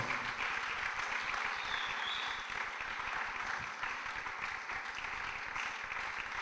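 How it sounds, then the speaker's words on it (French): Studio audience at a live music television show cheering and applauding a vocal group's arrival, a continuous wash of clapping and crowd noise at steady, moderate loudness. "Sous vos acclamations, bienvenue très chers artistes."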